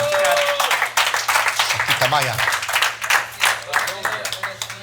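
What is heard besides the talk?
congregation applause in church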